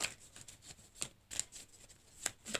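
Tarot cards shuffled and drawn in a string of crisp riffling flicks and soft slaps, close and fairly quiet, with brief pauses between bursts and no talking.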